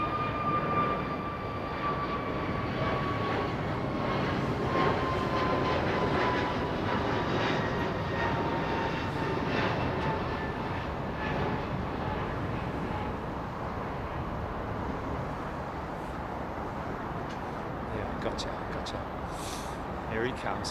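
Aircraft engines roaring on the runway at London Heathrow Airport, a continuous broad rumble with a faint rising whine, heard from a distance under steady wind and occasional bursts of talk.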